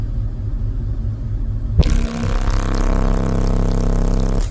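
Car subwoofers in a pickup truck, driven by a Taramps Smart 8K amplifier at 2 ohms, suddenly kick in with a sustained, booming 33 Hz bass tone that rattles the cab loudly after a short quiet stretch.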